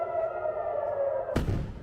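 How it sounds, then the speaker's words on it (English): A steady air-raid siren wails through the night during Iranian missile strikes on Israel, holding a sustained tone before being cut off by a sudden loud burst. "Sirens through the night"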